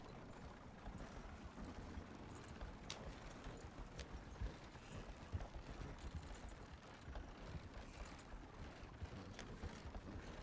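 Faint, steady clip-clop of a horse's hooves in the Star Citizen game, soft and continuous at a quiet level with no talking over it.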